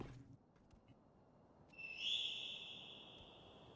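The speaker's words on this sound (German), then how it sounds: "Wieso pfeift da jemand?" A single high, sustained whistle in the Sekiro video game rises in from the distance and holds steady for a couple of seconds over quiet ambient background.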